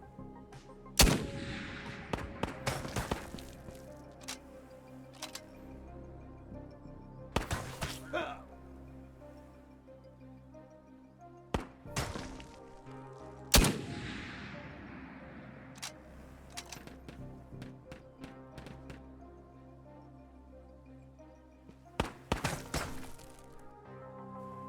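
Bolt-action rifle shots ring out in Ghosts of Tabor, a handful of sharp separated cracks spread across a quiet stretch, some with echoing tails, set against low background ambience.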